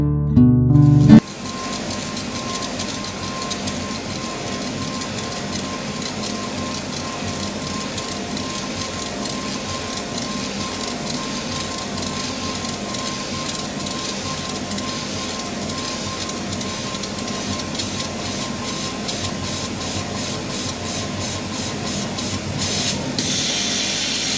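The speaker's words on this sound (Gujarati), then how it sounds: "આ લેઝર કટિંગ મશીન દ્વારા આપણે જે કાર્ડની ડિઝાઇન બનાવવા માંગતા હતા તે આ સરળતાથી" A laser cutting machine cuts a car design, giving a steady whirring drone with a faint constant tone and rapid ticking. It runs nonstop after a brief louder start.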